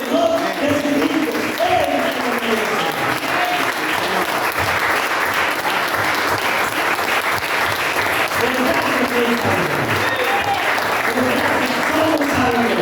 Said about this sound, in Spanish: Démosle palmas a nuestro Señor Jesucristo.